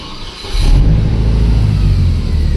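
A worn-out $300 truck engine idles roughly, loud and close, with an uneven, lumpy rumble that swells slightly after a brief quieter start and keeps going with no one speaking.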